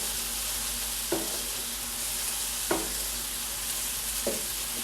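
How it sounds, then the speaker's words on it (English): Gnocchi frying until crispy in a pan alongside onions, mushrooms and garlic, a steady close sizzle broken by three soft stirring knocks. "So we're starting to fry it and make it crispy."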